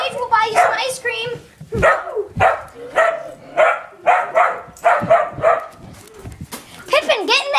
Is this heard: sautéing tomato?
no